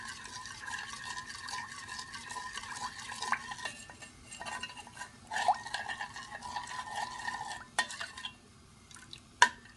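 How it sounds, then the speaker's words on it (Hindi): A spoon stirs homemade hair dye in a pot over low heat, scraping and clinking against the metal in steady, repeated strokes with occasional sharper taps, close and moderately quiet with no voices. "आपने लो हीट पे रखना है और इसका चमचा हिलाते जाना है"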